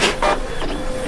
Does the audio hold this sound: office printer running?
yes